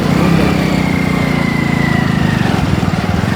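A motorcycle climbing a rough dirt road through dense forest, its engine droning steadily up close with a slight rising pitch, loud and unbroken.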